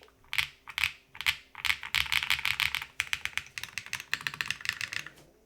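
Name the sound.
typing on a Class1800 custom mechanical keyboard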